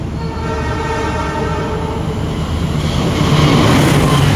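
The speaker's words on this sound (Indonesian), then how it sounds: "langsung sekaligus disusul 2 kereta di stasiun Kota Winangun" Trains rumble through Kota Winangun station as two of them overtake a waiting train, a steady loud rolling roar with a sustained high whine above it, building slightly toward the end.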